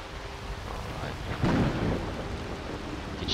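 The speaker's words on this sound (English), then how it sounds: "Still raining." Steady rain with a low rumble of thunder swelling midway, from the video game Skyrim; a dense, even downpour carries on throughout under faint voices.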